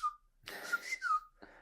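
A voice imitates the whistle of a widgeon duck with a few short, breathy whistled notes and a rising trill, close and quiet with no speech.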